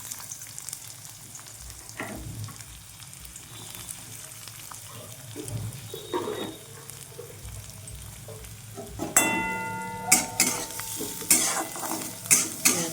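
Chopped onion frying in a pan, a soft sizzle at first, then louder rhythmic stirring with spatula scrapes and clinks against the pan toward the end.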